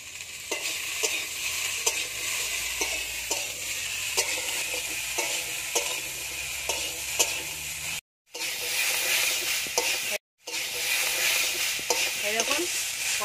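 Pui mituli greens fry and sizzle in a pan with steady hiss, while a spatula stirs in regular scraping strokes about once a second; two brief cuts of silence interrupt it near the end.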